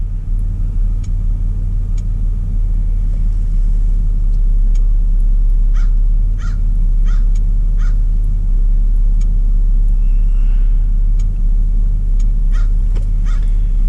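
A Chevy Impala 3.5 engine with a misfire idles with a loud, steady low rumble and drone throughout, while crows caw intermittently in the background.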